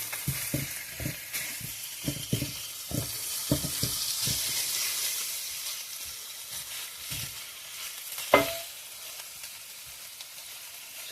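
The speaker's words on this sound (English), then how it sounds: "I've got my chicken thighs pretty much in strips now, in pieces. So I'm just going to cook this up." Seasoned chicken thigh strips cooking in a pan, a faint steady sizzle beneath a series of soft close knocks and scrapes, with one sharper clatter near the end and no talking.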